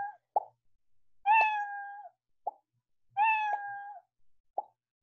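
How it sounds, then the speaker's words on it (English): Cartoon cat meow sound effect in animation software, two clean drawn-out meows each framed by short plopping pops, repeated twice in a regular pattern against silence. "I'm going to delete out this meow sound because I do not like that."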